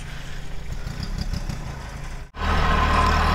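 A small 24-horsepower farm tractor fitted with a disc plough and fertilizer tank idles with a low, chugging rumble, then after a brief dip the engine note turns louder and rougher, close by.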